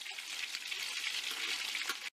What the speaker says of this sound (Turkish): Önce biftek sarmaların birer tarafını kızartıyoruz.